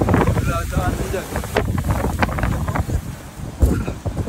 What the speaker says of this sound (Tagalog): Sobrang hangin mga tropa